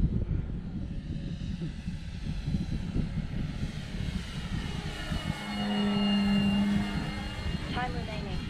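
A radio-controlled Great Planes Avios Grand Tundra model airplane's engine whines and drones overhead, its pitch rising and falling as it passes at a distance.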